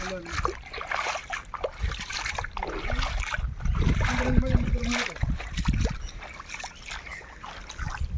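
Monsoon floodwater splashes and churns at Gautameshwar, irregular sloshing bursts that swell in the middle, heard under people talking.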